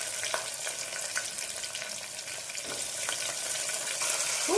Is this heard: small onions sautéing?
yes